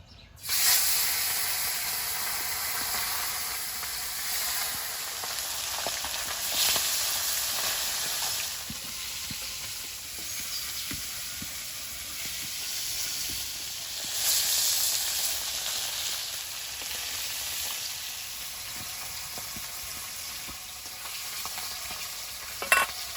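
Parshe fish frying in hot oil in a wok, a steady close sizzling hiss with faint crackles and a few swells in intensity, no talking.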